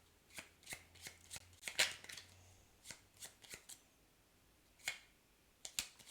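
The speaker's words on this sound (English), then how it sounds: "Hopefully that shuffling sound isn't too annoying." Cards for the board game Tokaido being shuffled and snapped in short crisp bursts, close and fairly quiet, with pauses between riffles.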